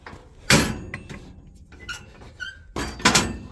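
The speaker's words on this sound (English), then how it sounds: "But the bottom door does open." Bottom door of a tight metal livestock chute being opened, with sharp squeaks, scrapes and clanks in separate bursts, fairly close and loud.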